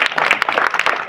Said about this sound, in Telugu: చప్పట్లు కొట్టండి వాడికి.